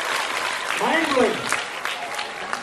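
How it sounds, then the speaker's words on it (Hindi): An audience at a children's foundation day celebration claps after a performance, the applause sustained and fairly close, with voices calling out over it. "ऐसी तालियां हर कलाकार की परफॉर्मेंस में होनी चाहिए।"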